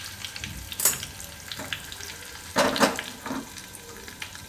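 Asafoetida goes into hot oil on a low gas flame for a sambar tempering, giving close, crackly sizzling with a few sharper pops and stirring scrapes.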